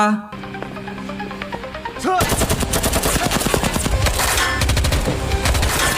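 Rapid bursts of gunfire in a film scene crackle continuously over a dense, loud action soundtrack, with a sharp intensification partway through and sustained automatic shooting to the end.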